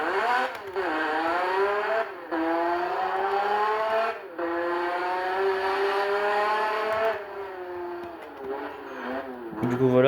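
A stock car engine in the Roblox game Fix It Up revs and accelerates through several gear changes, its tone climbing, then dropping at each shift, loud and close, ending with a sharper burst.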